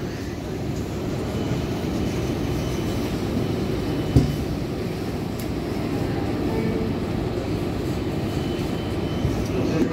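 An R142A subway train on the 6 local line runs in the Bronx direction with a loud, steady rumble and whine of motors and wheels throughout, one brief clunk midway.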